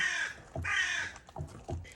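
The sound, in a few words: crow cawing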